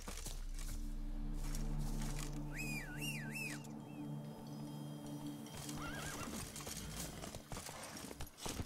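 Geralt's horse Roach in The Witcher 3 lets out two rising, wavering whinnies, the first near the start and the second later and fainter, over steady galloping hoofbeats and a low game score.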